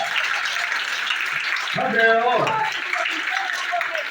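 Applause from an audience at a school presentation on Hindi grammar, a steady wash of clapping that runs throughout and swells briefly, with a voice speaking over it partway through.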